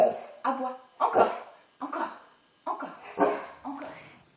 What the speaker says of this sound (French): Aboie, encore.